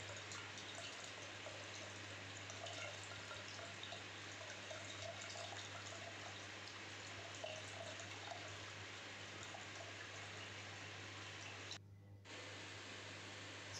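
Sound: washing homemade paneer with running water

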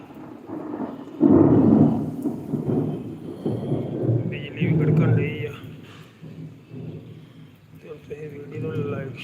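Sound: heavy rain and thunder

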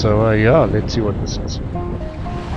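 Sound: lake waves at the Vaaldam

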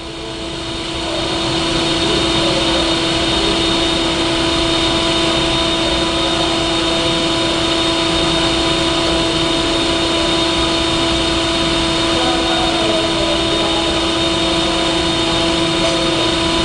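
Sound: Verteq 1800 spin rinse dryer winding down

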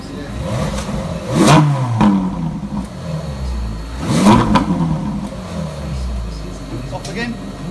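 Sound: Ferrari 458 Italia engine revving

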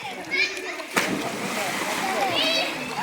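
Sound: child splashing while swimming

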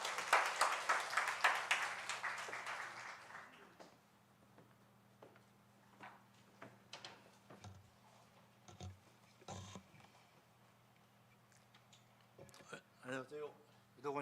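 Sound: audience applause welcoming a speaker

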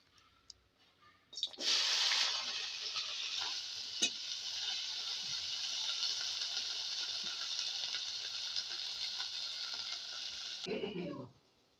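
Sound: okra frying in a pan

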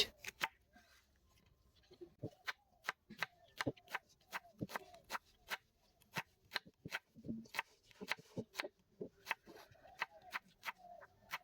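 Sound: chopping onions with a knife

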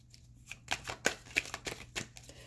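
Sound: shuffling tarot cards

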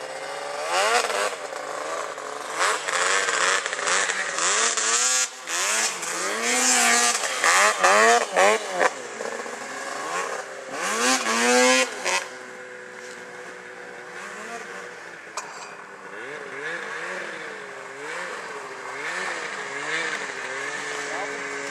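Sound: snowmobile engine running

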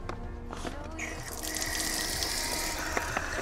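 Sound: water filling a collapsible water container

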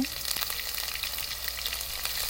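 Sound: garlic paste frying in oil with cumin seeds

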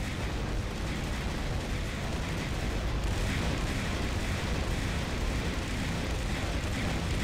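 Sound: ship weapon gunfire in Jets N Guns Gold video game

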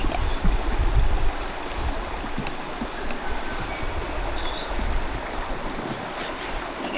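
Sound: hot water boiling in a pot at a campsite

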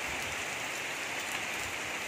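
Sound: heavy rain

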